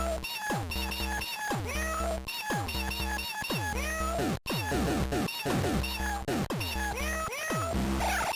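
Person on a voice chat while playing Sea of Thieves imitating a cat, a run of repeated drawn-out meows in close succession, loud and near over steady game music.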